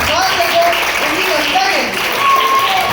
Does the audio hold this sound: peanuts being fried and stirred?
no